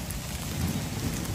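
Heavy rain pours steadily during a spell of stormy weather near a lychee orchard, a dense continuous hiss with a low rumble beneath, loud and unbroken throughout.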